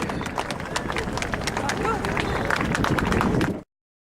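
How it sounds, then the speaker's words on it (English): A crowd at a seaside air show claps in a dense, sustained burst of applause that is loud and continuous for several seconds, then cuts off abruptly. "Big round of applause."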